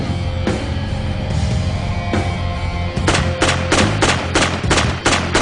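Rapid gunfire from a sniper rifle and other weapons in a combat exercise, a few single reports early, then a dense run of sharp shots in the last seconds over constant rumbling battle noise and music.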